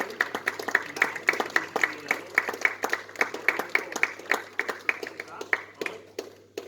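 A small audience at a snooker academy presentation gives a steady round of applause, made of sharp, rapid individual claps that carry on for several seconds and keep a fairly even level.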